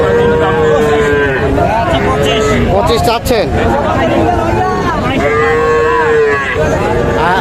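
A roughly two-month-old calf bellows repeatedly at Ambari cattle market in Dinajpur, with several long, wavering moos close at hand under steady crowd babble while someone speaks nearby.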